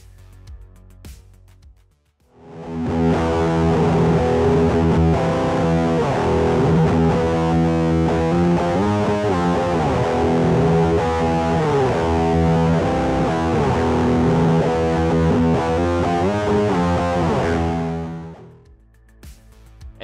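An electric guitar through a Zoom G1X Four overdrive effect plays a gritty, sustained riff for about fifteen seconds, starting abruptly and cutting off near the end, loud and close.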